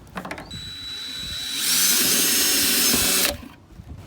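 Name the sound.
drill drilling a pilot hole in a roto molded cooler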